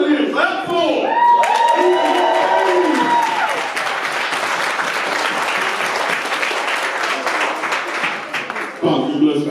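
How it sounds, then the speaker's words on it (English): Banquet crowd at a middle school football team celebration breaks into sustained loud applause and cheering with whoops, starting after a few seconds of a voice and holding steady until it cuts off near the end. "These boys deserve y'all to clear and shout for them. Clap for them."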